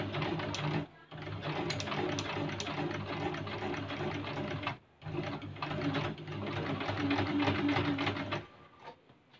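An Usha Dream Stitch sewing machine stitches fabric in steady, fast mechanical runs, pausing briefly twice before carrying on, close and moderately loud with no talking.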